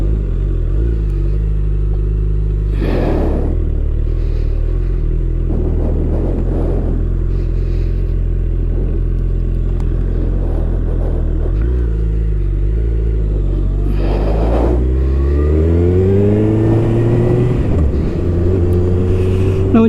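A 2021 Suzuki Hayabusa motorcycle pulls away on the road, its loud, close engine rumbling steadily, then rising in pitch as it accelerates toward the end.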